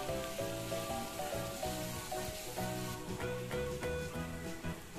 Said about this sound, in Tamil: சேர்த்து நம்ம 1 நிமிஷம் போல் வதக்கிக்கலாம்.